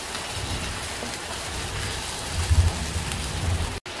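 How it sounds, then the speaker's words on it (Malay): Heavy rain pours steadily in a dense hiss, with low rumbling swells midway, then a brief cut near the end. "Sebab hujan kat luar, pakcik kena cakap tak kuat."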